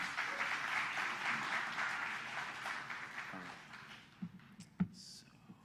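A church congregation claps for two people in a sustained round of applause that fades, followed by a few isolated knocks and taps near the close.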